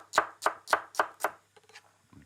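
A knife dicing onion for mirepoix on a cutting board: five crisp, evenly spaced chops, fairly loud and close, followed by a few softer scraping taps.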